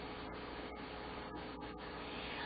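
Felt being rubbed and rolled by hand during felt making, a steady close scratchy rubbing texture that runs continuously with a few brief louder strokes, no talk.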